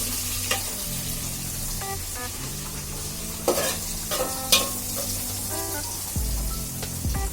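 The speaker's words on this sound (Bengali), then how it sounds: "ওই যে এলাচ তেজপাতা দিলাম, পেঁয়াজ মরিচ দিয়েছি" Cardamom, bay leaf, onion and chili frying in oil for chana dal, a low steady sizzle with stirring strokes and occasional clinks of a spoon on the pan.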